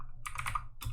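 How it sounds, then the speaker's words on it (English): A key on a computer keyboard is pressed, giving a couple of quick, light clicks close by in a quiet room. "And then delete on my keyboard again"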